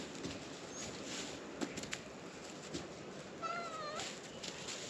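A cat gives a single short meow that rises and falls, heard faintly over a steady background hiss with a few light taps.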